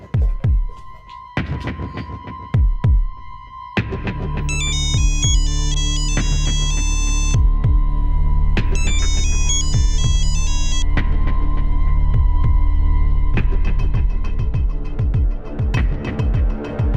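A loud electronic phone ringtone plays as someone makes a call, a repeating melodic tone pattern over a low steady drone, with clicks at the start before the ringing settles in and continues to the end.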